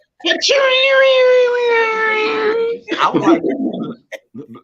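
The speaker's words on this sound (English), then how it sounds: "She burped and sneezed at the same time." A woman burps and sneezes at once, producing a long, loud, drawn-out tonal squeal-like sound lasting over two seconds, followed by a rough burst and brief voices talking nearby.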